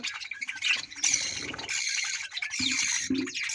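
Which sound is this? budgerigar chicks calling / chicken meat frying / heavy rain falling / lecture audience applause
budgerigar chicks calling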